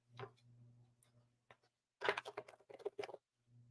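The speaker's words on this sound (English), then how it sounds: "I'm sorry, this may be loud whenever I'm shuffling." Tarot or oracle cards being shuffled by hand for a psychic reading, quiet close riffling bursts and taps in short clusters against a low steady hum.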